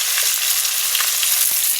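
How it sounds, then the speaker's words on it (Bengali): Tilapia fish frying in hot oil gives a steady, close, dense sizzle with faint crackles throughout, and no voices. "আর এই যে মাছ ভাজছি,"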